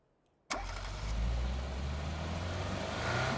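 A car engine in PUBG starts up abruptly after near silence, then settles into a steady, loud, low idle that swells slightly as it begins to rev, with no talk over it.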